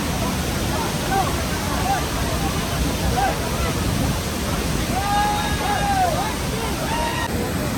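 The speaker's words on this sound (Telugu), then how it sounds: "Specially to show this Dudhsagar water falls. India's 5th largest water falls ఇది" The Dudhsagar waterfall in Goa roars as a loud, steady wash of falling water, with voices talking faintly over it.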